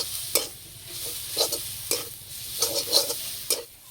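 Cauliflower leaves frying dry in a pan without salt or water, with a soft steady sizzle and a few light scrapes of a spatula stirring them at intervals, fairly quiet and close.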